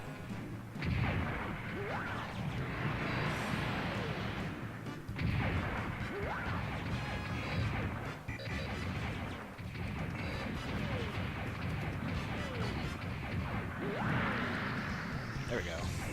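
Repeated crashing smashes and thuds of buildings collapsing in a mech video game, with a dense rumble in between, and several louder hits spaced a few seconds apart.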